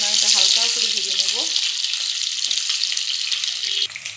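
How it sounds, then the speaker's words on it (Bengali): Eggs frying lightly in oil with a spoonful of ghee, a steady bright sizzle close by, with a voice talking over it at the start. "এবার ডিমগুলো একটু লাল করে ভেজে নেব, বেশি লাল করব না, এটা হালকা করে ভেজে নেব।"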